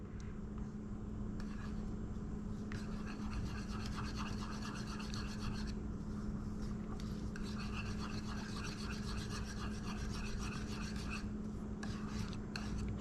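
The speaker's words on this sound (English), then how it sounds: "Just keep stirring and stirring and stirring." Spoon stirring a yogurt mixture slowly and steadily in a bowl, giving a soft continuous scraping rub with brief pauses, close by with no talking.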